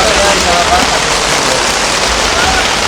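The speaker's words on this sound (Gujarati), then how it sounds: "કાંઈ દેખાતું નથી એવો વરસાદ આવે." Heavy rain pours steadily and loudly at an outdoor fair in Porbandar, a dense unbroken hiss of water drumming on surfaces that fills the whole stretch.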